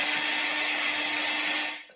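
An electric drill whirs steadily at high speed, loud and close, with a constant motor hum under a broad buzzing grind, then winds down and cuts off near the end.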